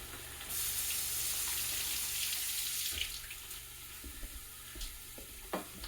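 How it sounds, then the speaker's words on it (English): Tap water runs steadily into a kitchen sink as celery is rinsed for minestrone soup, giving a continuous hiss broken by scattered splashes and light knocks near the end. "Give the celery a rinse."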